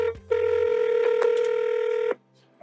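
A phone number being dialed through a computer dialer gives a short tone followed by a long steady electronic telephone tone lasting about two seconds, then quiet.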